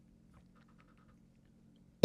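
Someone in a quiet indoor room coughs once, sharply and loudly, right at the end after near silence with faint murmuring.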